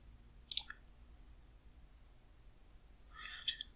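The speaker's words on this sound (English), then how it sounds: "double click to install" Computer mouse double-clicking to install a font, a quick pair of faint sharp clicks early on and a second small cluster of clicks near the end, in an otherwise quiet room.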